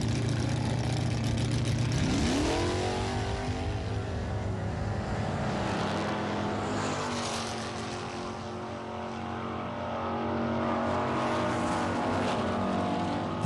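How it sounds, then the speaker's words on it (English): A 1969 Buick GS Riviera and a 1968 Skylark drag race at a muscle car event, with loud engines roaring nearby and then rising in pitch as the cars launch and pull away. "Here's a '69 GS Riviera against a '68 Skylark."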